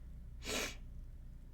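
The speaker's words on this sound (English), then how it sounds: "I have to sneeze." A single short sneeze bursts out close by, a sharp breathy puff lasting under half a second against a quiet background hum.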